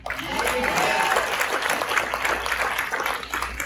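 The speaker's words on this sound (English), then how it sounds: "How about a round of applause for that?" A live audience at a talk breaks into dense, steady applause, many hands clapping evenly with a faint murmur underneath.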